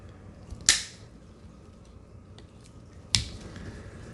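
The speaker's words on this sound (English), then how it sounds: "I'm going to go ahead and offload all the rounds out of this magazine" Rounds being pushed out of a P80 Glock-style pistol magazine, two sharp, close metallic clicks spaced a couple of seconds apart over a quiet room, with no talking.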